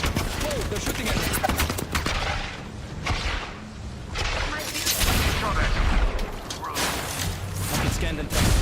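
Enemy gunfire in Apex Legends, dense overlapping bursts of shots and impacts coming thick and loud throughout, with a player speaking over the firing.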